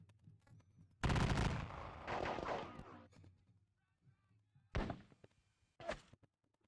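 Musket volleys in the Napoleonic strategy game WDS Jena Campaign, a loud crackling burst followed by two shorter separate reports, fairly close.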